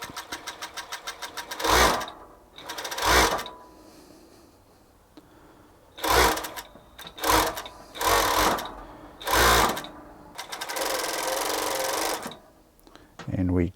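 A Zoje ZJ662 industrial cylinder-arm coverseam sewing machine stitches grey polar fleece, its motor whirring in a series of short, close bursts of varying length, with a person talking in the gaps between them.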